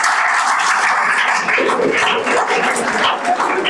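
A crowd claps continuously for a prize winner at a National Youth Day award ceremony on a college campus, the loud, dense applause holding steady across the whole stretch.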